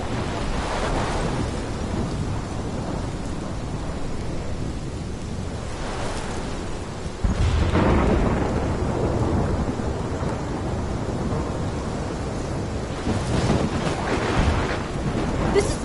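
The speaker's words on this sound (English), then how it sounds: "My storm!" A thunderstorm of steady heavy rain and wind builds into deep rolling thunder, with a loud crack and rumble about halfway through and another swell of thunder near the end.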